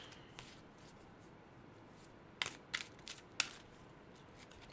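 Playing cards being picked up and shuffled by hand, a few quiet riffling bursts in the middle of the stretch over a faint background hiss.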